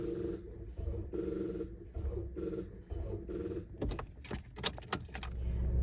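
A car with a dead battery fails to start: a faint, muffled rhythmic clicking and whirring repeats several times. It ends in a burst of sharper rattling clicks, heard close with no voices.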